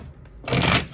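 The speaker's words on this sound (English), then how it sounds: "Let's shuffle this up." Tarot cards are shuffled in a short burst: a quiet moment, then a crisp riffling rush of card edges lasting about half a second, close and alone.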